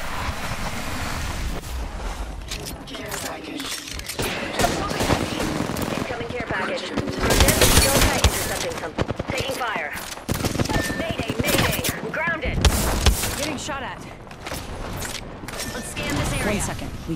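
Video game combat with heavy sustained automatic gunfire, rapid bursts and shots crackling loudly and nearly nonstop, alongside game voice callouts.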